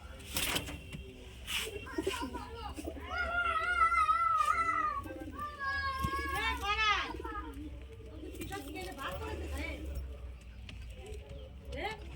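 Lal jiriya pigeons coo in soft, rolling bursts close by, mixed with other bird calls and a few clicks, while someone talks through much of the stretch.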